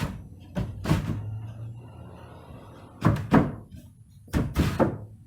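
A wooden sliding hatch in an insulated campervan bulkhead, unsanded and running in temporary guides, is slid back and forth, giving three clusters of close, hollow thunks and knocks with scraping between them.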